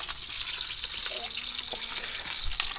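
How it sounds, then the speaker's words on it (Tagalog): Eggplant frying in a pan gives a steady hiss and crackle of hot oil, with faint clinks and kitchen noises underneath. "At nagpiprito na po tayo ng talong."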